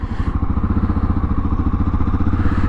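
A 2025 Honda XR650L dual-sport motorcycle chugs along at low speed in first gear, its single-cylinder engine thumping in an even, loud, close rhythm throughout.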